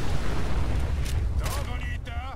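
A suicider super mutant explodes in Fallout 4, leaving a long, heavy rumbling boom under steady game noise, with short higher sounds near the end.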